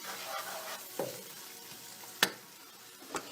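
Tomato, onion, garlic and ginger masala sizzles softly in a pan for a chicken kofta with spinach dish, with a few sharp scraping stirs of a spoon rising above the quiet, steady frying.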